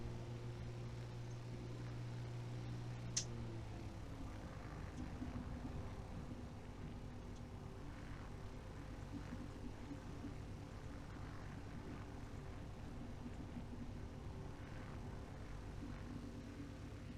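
A light propeller aircraft engine in a flight simulator game drones steadily, with a faint click, then a throttle change that shifts the engine tone before it settles into an even hum.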